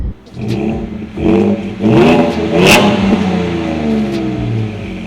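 A 2018 Ford F-150 XL 3.3L pickup truck engine revs up repeatedly through a deep, throaty modified exhaust, rising and falling loudly and close by.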